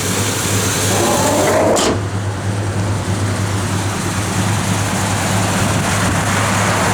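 The V8 engine of a 1986 Chevrolet Monte Carlo SS with a mild cam idles close by with a steady, slightly lumpy low rumble, a brief whoosh passing early on.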